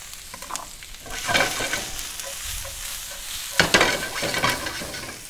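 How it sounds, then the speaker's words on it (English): Onions, garlic and ginger sizzle in a pan for a Filipino pares stew, close and steady, with a spoon or spatula stirring and scraping through them in repeated bursts. "we like to cook down our onions and our garlic first"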